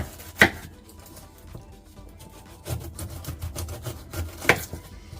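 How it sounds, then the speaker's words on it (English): A big knife peels and cuts a pineapple, giving close rubbing, scraping strokes with a few sharp cuts standing out, and no talking over it. "And we're going to peel this pineapple."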